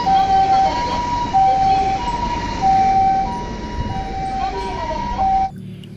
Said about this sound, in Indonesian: Wadidaw, ini ternyata mobil ambulan.